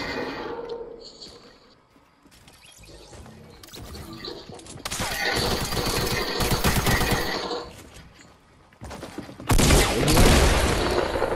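Rapid bursts of automatic gunfire rattle loudly from players fighting in the video game Fortnite, building into sustained dense volleys with a sharp, louder barrage near the end.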